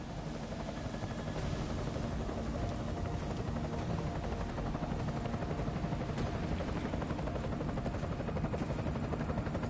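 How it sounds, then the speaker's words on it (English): A hostile helicopter in the video game Deus Ex: Mankind Divided gives off a steady, loud rotor roar that fills the whole stretch without letup, with faint gunfire-like crackle underneath and no voices. "Enemy helo sighted."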